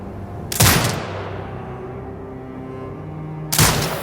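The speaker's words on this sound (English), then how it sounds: "command the turret to fire" Turret gunfire in Sniper: Ghost Warrior Contracts 2, two loud, sharp bursts about three seconds apart, each cracking hard and trailing off in a ringing decay over low engine-like hum.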